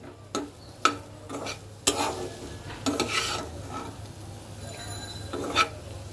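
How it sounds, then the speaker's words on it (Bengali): Cumin powder masala sautéing in a pan, a soft sizzle under distinct scraping stirs and spatula knocks that come in irregular bursts. "এইবার জিরার গুঁড়াটা দেওয়ার পরে খুব সুন্দর মতো আমি আরও কিছুক্ষণ সময় কষাবো"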